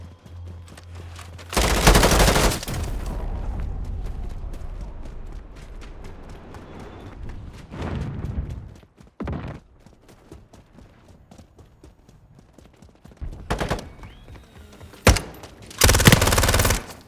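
Bursts of PPSh submachine gun fire in Modern Warfare, several loud rapid automatic volleys spaced apart, with softer game noise between them.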